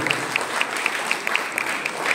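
An audience at a school medal ceremony during a religious gathering gives a sustained round of applause, a steady dense patter with faint periodic tones running beneath it.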